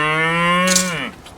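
A single close, loud cow moo rings out in a barn, a long drawn low call that falls in pitch at the end.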